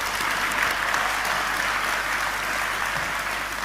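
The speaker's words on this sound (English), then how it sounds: "let's give them all one big last round of applause." A crowd at an awards ceremony applauds steadily, a dense wash of clapping at moderate volume with no voices over it.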